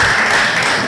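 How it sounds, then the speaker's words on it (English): Audience applause at the Palm Wine Conference, a brief, loud wash of many hands clapping at once, dense and continuous with no voices. "Can we give him another round of applause"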